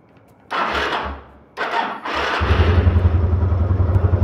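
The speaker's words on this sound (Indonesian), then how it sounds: "Kita nyalakan motornya dulu." A motorcycle is kicked or cranked over twice with short mechanical bursts, then its engine catches and settles into a steady, close idle with a fast rhythmic putter.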